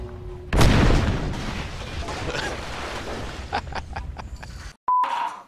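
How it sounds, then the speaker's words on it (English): Grenade explosion in the video game Crysis: a loud, close boom bursts out and rumbles away into a long, noisy tail, followed by a few scattered clicks and a brief electronic beep. "Here, have a grenade."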